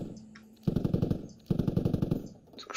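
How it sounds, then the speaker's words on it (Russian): Two long bursts of rapid heavy machine gun fire from a Kord mounted on a helicopter in the video game Squad, loud and close, with a pause between bursts. "Стреляет, конечно, кордом."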